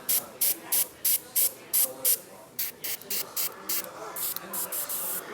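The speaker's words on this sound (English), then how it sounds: "I'm going to spray right back by the back of the eye" An airbrush sprays paint onto a model's helmet and eye area in a rhythmic series of sharp, hissing bursts, about a dozen short pulses, with a brief pause partway through.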